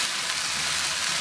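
Chili added to onions and okra frying in a pan for a Fiji-style bhindi curry, giving a dense, even sizzle that stays close and loud for a brief moment, with no voices.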